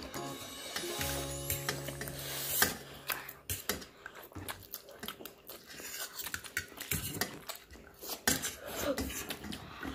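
Spoons clink and scrape against bowls while people eat Yippee instant noodles, giving irregular sharp metallic taps and rattles throughout, close by, with some quiet voices and chewing underneath.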